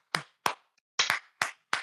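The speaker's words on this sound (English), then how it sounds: "let's clap for Cleveland's winning record one time." People clap in about six sharp, separate handclaps at an uneven, slow pace, with two coming close together near the middle. The claps are near and crisp, with silence between them.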